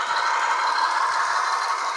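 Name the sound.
model train locomotive engine sound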